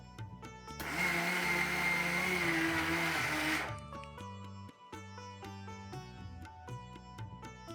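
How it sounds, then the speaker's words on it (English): A kitchen grinder whirs loudly for about three seconds, pulverising cashew nuts into fine powder, then stops abruptly. "So we'll keep grinding it for 5 to 10 seconds every time till we get a fine powder."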